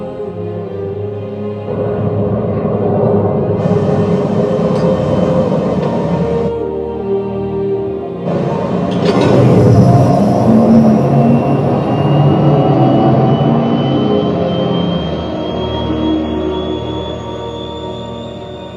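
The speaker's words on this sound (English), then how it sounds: "Obviously, a lot of plane noise in there" Airplane noise rolls loud and steady through the whole stretch, a broad roar with rising engine whine that swells past the middle and stays heavy to the end, with no talk.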